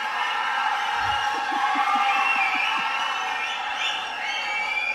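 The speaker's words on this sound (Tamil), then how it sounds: "நீங்க கேள்விக்கே கிளாப் பண்றீங்கிறது நான் பாக்குறேன்." An audience at a film-industry talk event claps and cheers in a dense, loud, continuous wash of crowd noise with shouts and whoops, sustained throughout without a break.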